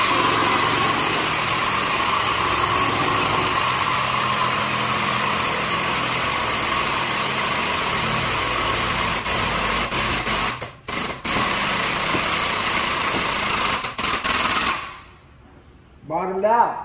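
A 2019 Polaris RZR Turbo XP engine revs steadily and loudly under strain as it pulls on a strap to straighten a damaged frame, droning continuously before cutting out near the end, with a brief voice afterward.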